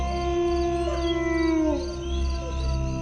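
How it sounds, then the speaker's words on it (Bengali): Jackals howling at night in an eerie haunted setting, long rising and falling wails overlapping in several voices, sustained and fairly prominent throughout. "দূরে শোনা যাচ্ছে শেয়ালের ডাক।"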